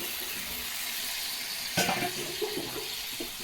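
Water poured into a cooking pan of small fish curry with raw mango, a brief splash over steady background hiss, followed by soft clinks and stirring sounds.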